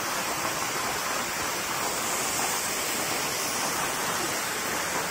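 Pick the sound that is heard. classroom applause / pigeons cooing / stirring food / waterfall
waterfall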